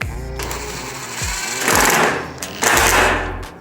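A power tool drives screws while a Weber Genesis E-335 natural gas grill is being assembled. Several short whirring bursts sound nearby, each winding down in pitch, and the last run is longer and steadier.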